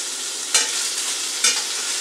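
Steady broadband hiss of bacon sizzling in a hot frying pan, with two brief louder bursts of crackle, no voices.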